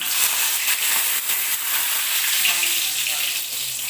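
Garlic cloves and curry leaves crackle and sizzle in hot tempering oil, a dense, steady hiss close by with small sputtering pops throughout.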